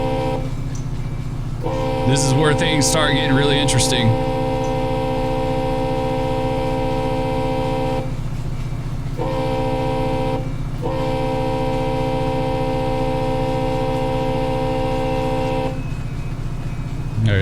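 A freight train's horn in the Run 8 Train Simulator game, blown for crossings on the Fitzgerald Sub, sounds as long steady multi-tone blasts with brief breaks over a constant engine rumble, and someone speaks briefly at the start.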